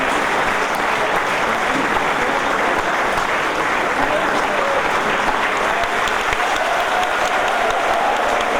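Loud, unbroken audience applause at a BHEL golden jubilee celebration, steady throughout with a faint murmur of voices in the crowd.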